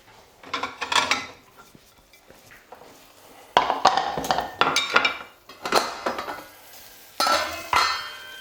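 A plate and cutlery clatter in a kitchen just after the stove is switched off beneath a finished Greek-style feta and spinach omelette, bursts of close clinks and knocks separated by short pauses.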